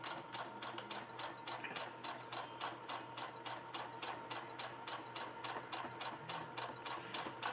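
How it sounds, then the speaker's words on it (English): A sewing machine top stitches down the bottom hem of a half apron, running in a fast, steady, even rhythm of close mechanical needle strokes that continues the whole time at moderate loudness, with no talking. "I sew that bottom down"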